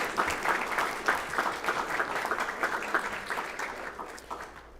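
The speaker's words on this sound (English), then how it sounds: "How about a round of applause?" A school board meeting audience applauds after an awards recognition, with moderately loud, evenly textured clapping from a room of people that continues steadily and then fades.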